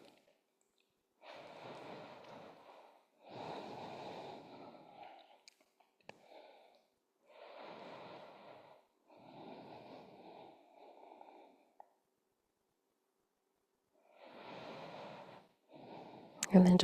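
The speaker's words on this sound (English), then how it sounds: "We'll take 3 more breaths here." Slow, deep breaths drawn during a restorative fascia release exercise, each inhale and exhale a soft airy rush lasting a second or two, separated by quiet pauses, close and gentle.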